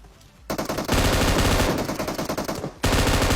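Rapid automatic gunfire in PUBG Mobile, loud and close, firing in dense bursts with a short break before a second sustained volley.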